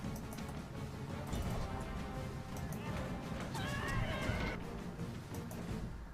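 Horses whinny and neigh amid the din of an ancient battle in the strategy game Rome: Total War, with a neigh rising clearly over dense crowd and combat noise in the middle and late part, no words spoken.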